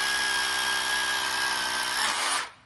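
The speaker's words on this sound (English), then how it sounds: "I drill it down this hole pretty deep" A power drill runs steadily at high speed, loud and close, its whine holding constant before spinning down abruptly at the end.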